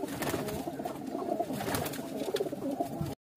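Several pigeons for sale in Multan coo in soft, throaty repeated calls close by, overlapping one another, before the sound cuts out abruptly.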